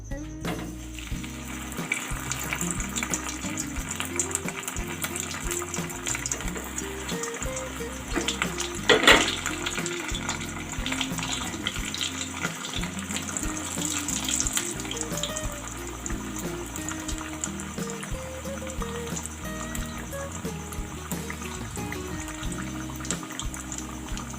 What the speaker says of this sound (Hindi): अब मैं इसको एक बार और सेक लेती हूँ। मैं इसको इसमें फिर से डाल रही हूँ।